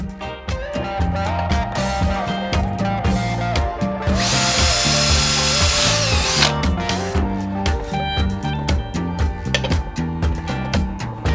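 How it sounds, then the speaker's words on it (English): A power drill bores holes into a box for a DIY guitar tone capacitor sampler, its motor whine rising and falling in steady bursts, loud and close, with one longer continuous run in the middle. "So what I did is I drilled one hole as tight as I could in the corner"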